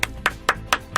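Hand clapping in a slow, even rhythm, five sharp distinct claps about a quarter second apart, close and fairly loud over a quiet background.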